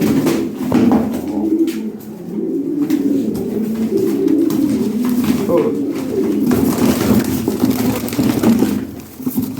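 Domestic pigeons coo repeatedly at close range, with deep, throaty, rolling calls overlapping one another while people talk nearby during a pigeon delivery.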